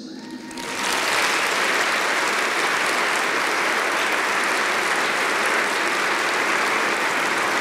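Loud, sustained applause from a gala audience honoring the auxiliary bishops of the Archdiocese of Detroit, rising sharply after a brief quieter moment and holding at full strength without any voices.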